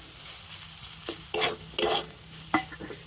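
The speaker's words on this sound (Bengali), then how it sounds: "আর সব কিছুর সাথে আলুটা কিন্তু খুব ভালো করে মিশিয়ে নেব।" Mashed boiled potato being stirred into a frying mixture in a pan, a soft background sizzle broken by a few loud scraping spatula strokes, no speech.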